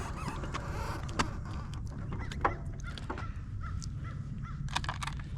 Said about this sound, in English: Sandhill cranes.